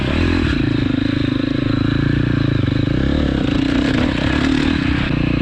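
A KTM 250 XC-F four-stroke dirt bike ridden off-road, its engine droning loud and constant close to the rider, with faint clatter and no voices.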